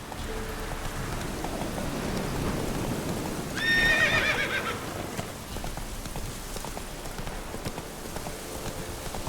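Roach, a horse in The Witcher 3, gives a loud whinny midway over steady rain and scattered hoof clops on wet ground, with no talking.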